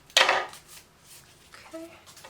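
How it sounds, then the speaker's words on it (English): A quick scissor snip through craft material for a bird-themed project, one short crisp cut near the mic followed by faint handling noise and a small clink. "I'll just give this a little cut."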